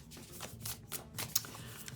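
A fairly new deck of playing cards being shuffled by hand, a quick papery riffle and flutter of cards up close for about two seconds, with no talking.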